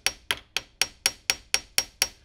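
A small ball-peen hammer peens the steel hammer of an Argentine M1911 pistol on an anvil, nine sharp, evenly spaced metallic taps ringing briefly and close, with no talk.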